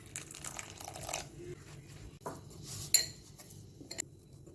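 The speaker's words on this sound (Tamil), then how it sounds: "தேவையான அளவு தண்ணி ஊற்றி பிசைஞ்சுக்கணும்." Dough for paratha is being kneaded by hand with added water, making soft, faint squishing and slapping sounds along with a few light clinks of a vessel in a quiet kitchen.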